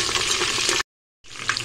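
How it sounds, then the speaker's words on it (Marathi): Curry leaves, cumin and chilli sauté in oil inside a pressure cooker on a gas stove, making a loud, close, crackling sizzle that breaks off for a brief silent gap before resuming. "तेलात परतून घेऊया"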